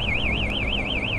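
A motorcycle alarm whoops steadily in a rapid rising-and-falling warble, loud and continuous over a low background rumble.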